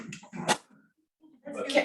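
A single sneeze from someone attending a team meeting, short and fairly close, followed by a brief quiet pause before another voice begins.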